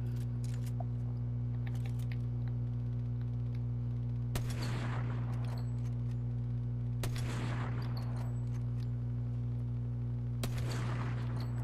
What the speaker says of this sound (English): I'm missing every shot I'm shooting.